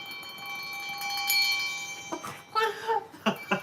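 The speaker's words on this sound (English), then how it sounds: "It's actually literally touching the other bell, which is really cool. And it's making the coolest sound." A small bell rings while touching a second bell, giving a sustained metallic tone followed by several brighter, clattering strikes as the bells knock together, moderately close and fairly soft.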